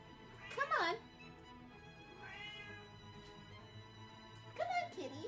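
A house cat meows several times close by, with a sharp cry near the start, a softer drawn-out meow in the middle and another call at the end, set against a quiet room with faint background hum.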